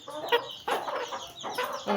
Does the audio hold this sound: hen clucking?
yes